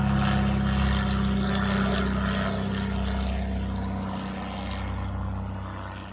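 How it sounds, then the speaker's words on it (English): Propeller drone of a biplane passing overhead above the Cataract Lake Trail in Maplewood State Park, a steady loud rumble with a low buzzing tone that holds for several seconds, then eases slightly as it moves on. "Biplane."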